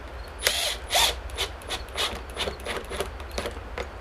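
A power drill drives 1 1/4 inch screws into wood with a series of short close whirring bursts, two louder at the start followed by quicker lighter pulses, no talk.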